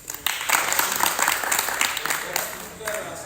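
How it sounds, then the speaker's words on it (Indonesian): Applause for two groups of students after a mat practice session, a steady patter of clapping from a room of people that swells and lingers for a few seconds. "Tepuk tangan dulu untuk dua kelompok."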